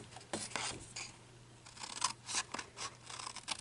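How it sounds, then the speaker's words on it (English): Scissors snip through cardstock to trim off the corners of a scored card frame, a run of short crisp cuts and rasps at close range with quiet pauses between them. "we're going to cut"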